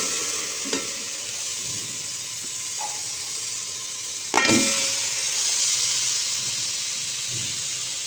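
Homemade butter melting into desi ghee in a pot over low heat gives a soft, steady sizzling hiss, close up, with occasional spoon scrapes and one sharper clack as it is stirred.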